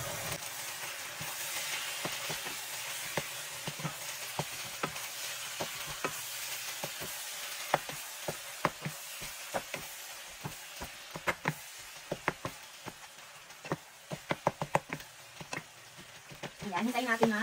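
Pork cubes with sesame oil sizzle steadily in a pan while a utensil stirs and scrapes, giving repeated sharp clicks and knocks over the continuous frying hiss, close and moderately loud.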